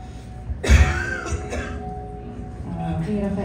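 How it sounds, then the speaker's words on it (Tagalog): A single sharp cough near the start, close and fairly loud, followed by quiet speech in a clinical consultation setting. "ubo."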